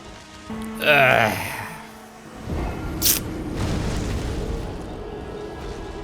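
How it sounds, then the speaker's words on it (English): A big explosion in the video game Elden Ring Shadow of the Erdtree, a sudden loud burst that swells into a rumbling roar and lingers over game sounds, with a sharp crack near the middle. "What's that big explosion and then leaving it?"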